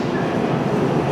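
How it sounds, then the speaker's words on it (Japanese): A Hanshin Railway train rolls toward the station on the line between Koshien and Mukogawa, giving a loud, steady, close rumble of wheels and motors that fills the whole short moment. "電車が近づいてまいります。"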